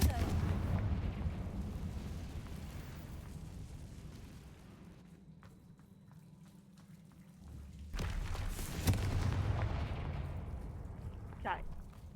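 Confringo fire spell explosions in the video game Hogwarts Legacy: loud rumbling blasts at the start, easing to a lower roar, then another booming burst about two-thirds through that decays slowly.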